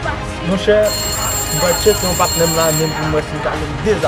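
A telephone rings with a steady high electronic trill lasting a couple of seconds, moderately loud, while people talk over it throughout.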